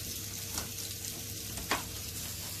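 Water chestnuts sizzle in a stir fry in a hot pan, a steady close crackle with a couple of sharp spatters as the food is stirred.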